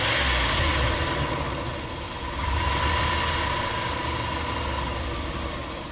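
Ram camper van engine idling after a hot soak, a steady close rumble that sags in the middle as if about to stall, then recovers and holds a rough, uneven idle.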